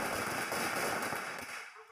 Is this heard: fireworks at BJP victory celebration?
yes